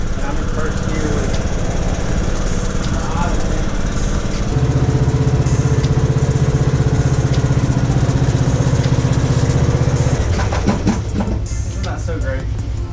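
A truck engine under load in first gear, a steady loud drone that shifts to a lower, heavier hum partway through, with people talking over it.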